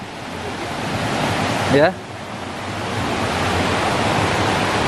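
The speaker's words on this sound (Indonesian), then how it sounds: "Ini kita sudah mulai nyampe di sungai kecilnya." A small river rushes steadily along a mountain valley trail near the Curug Silawe waterfall, a continuous broadband wash of flowing water, with one brief spoken word partway through.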